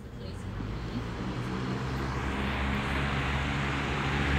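A Lasko 20-inch Weather Shield box fan, used as a window exhaust fan, runs with a steady, loud whooshing hum that builds slightly as it spins up.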